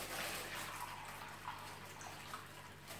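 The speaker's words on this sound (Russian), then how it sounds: "Так, наливаем в пакет воды." Water poured slowly from a carafe into a plastic bag, a steady soft splashing trickle that runs continuously and fairly close over a quiet background.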